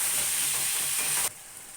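Meat sautéing with spices in oil in a pan, a loud sizzling hiss that suddenly drops away near the end, leaving only a faint background.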